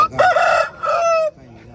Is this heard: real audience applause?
no